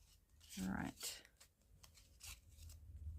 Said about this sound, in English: Have you ever tried to shuffle a small amount of cards?